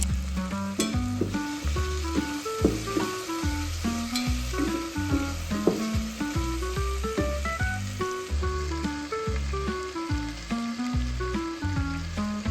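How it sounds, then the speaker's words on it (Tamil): Tomato gravy for biryani sizzles and bubbles loudly in a hot pan, with intermittent stirring clatter over a continuous frying hiss. "இப்போ தக்காளி போட்டு வேக வச்சுட்டு இருக்கேன்"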